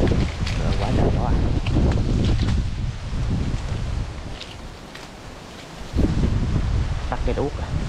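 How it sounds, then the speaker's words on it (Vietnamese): Strong wind gusts roar and buffet the microphone outdoors during beehive harvesting, loud and steady with a brief lull before surging again, with a person talking over it. "Gió dữ vậy trời, quá trời gió"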